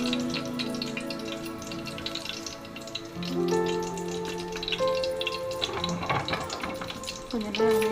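Whole spices such as bay leaf and fennel frying in hot oil for mutton biryani give a soft, steady sizzle and crackle, fairly quiet beneath humming kitchen sounds and background tones.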